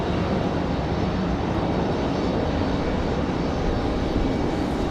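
A 700 airliner arriving at Raleigh Durham airport roars as a steady broadband engine wash at moderate distance, unbroken and without voices.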